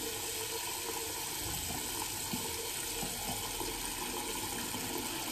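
Tap water running steadily into a sink to heat shaving water, a constant close rushing gush with faint clatter underneath.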